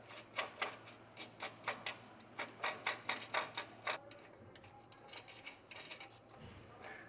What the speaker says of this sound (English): we'll take a flange nut. We're going to run this one all the way up